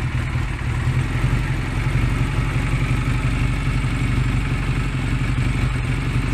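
A Honda Rebel 125 motorcycle engine idles after a carburetor adjustment: a steady, close, low, chugging drone with a light mechanical clatter, unbroken and without talk.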